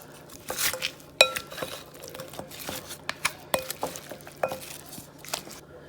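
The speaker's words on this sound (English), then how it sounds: "now I'm gonna go ahead and toss in the thyme, mix it up some more" Thyme being mixed into a curry goat marinade: close, wet squishing and patting with scattered light clinks of a utensil against a bowl, irregular and fairly quiet.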